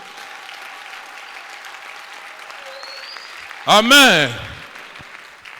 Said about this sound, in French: Applaudis très bien pour les rois des rois